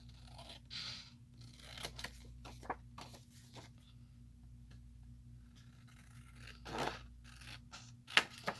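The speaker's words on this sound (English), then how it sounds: "or you could use your scissors." Scissors snip in short, irregular crunchy bursts, close and fairly quiet, with brief gaps between cuts and a few sharper clicks near the end.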